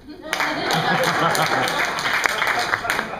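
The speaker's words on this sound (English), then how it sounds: "you can applaud for that" An improv comedy audience bursts into applause, a dense wash of clapping that starts suddenly and carries on steadily, with scattered louder claps and some voices mixed in.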